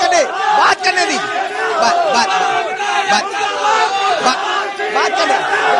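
A crowd at a heated Damoh debate between Congress and BJP leaders shouts political slogans, with many overlapping voices raised together, loud and continuous throughout.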